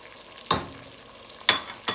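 Tomato sauce being stirred into a curry mixture that has been cooking for several minutes, with three sharp spoon-against-pan clacks spaced over a quiet background of low sizzling.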